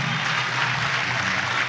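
Audience applause for the President at a presidential townhall meeting, a dense sustained clapping from a crowd, loud and continuous throughout.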